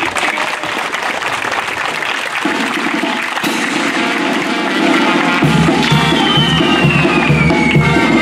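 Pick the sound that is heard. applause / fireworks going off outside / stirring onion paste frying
applause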